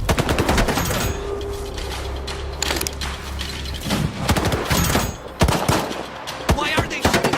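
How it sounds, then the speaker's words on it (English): Rapid automatic gunfire and single shots ring out in a STALKER 2 video game cutscene, loud close bursts and rattling volleys in irregular clusters with brief lulls between them. "Why are they shooting at us?"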